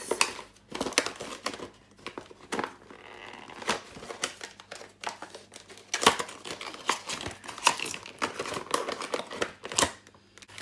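Plastic and cardboard makeup packaging crinkles, crackles and tears as it is ripped open, a close, loud run of sharp rustling bursts with brief pauses between them and no talking.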